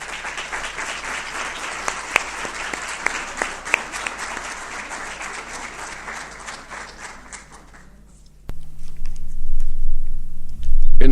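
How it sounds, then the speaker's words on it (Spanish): Sustained audience applause fills a lecture hall welcoming a speaker for a talk on the May Revolution of 1810, dense clapping for about eight seconds before cutting to quiet room noise. "Lo recibimos con un fuerte aplauso."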